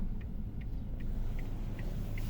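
Car creeping slowly past a booth while leaving a vehicle service center lot, a low steady engine rumble close by with a regular faint ticking, likely the turn signal, and no talk.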